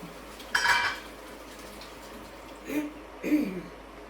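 A spoon scrapes and clinks against a pot while calabacitas with green chile is stirred, in a few short, close bursts with quiet gaps between.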